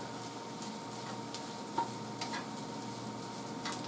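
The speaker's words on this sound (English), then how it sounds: "They're starting to fry up." Food sizzles steadily in a hot pan with a soft hiss, a few small pops and light clicks over a constant hum in the background.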